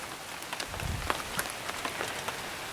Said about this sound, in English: Kind of a steady little rain starting up.